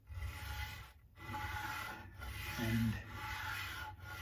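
Wood being sanded during the setup of a PRS Bernie Marsden SE electric guitar at its adjustable nut, a soft steady rasping rub close by that pauses briefly twice between strokes, with a single spoken word.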